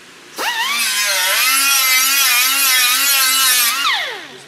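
A power tool whines steadily for about four seconds while stripping old paint off zinc- or chrome-coated metal being prepped for welding, spinning up sharply, holding a loud wavering pitch, then winding down.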